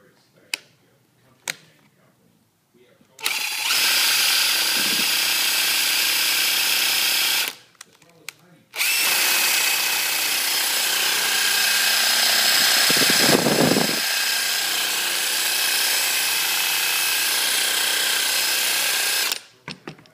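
Power drill spinning a bottle of touch-up paint held in a socket to mix it, a steady loud whir running in two long bursts with a short pause between, preceded by a few sharp clicks.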